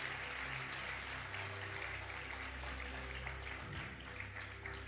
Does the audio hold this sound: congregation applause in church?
yes